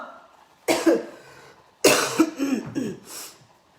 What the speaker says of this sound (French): Quand tu tousses comme ça, que ça fait le bruit que ça fait là